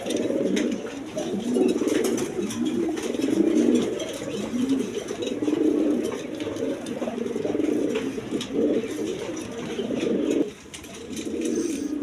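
Satin and Bombay pigeons, including a white pair, coo steadily at a pigeon market, a dense, continuous low throaty burbling from several birds that carries on with only brief dips.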